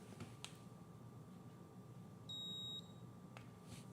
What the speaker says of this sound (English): And it beeps, okay.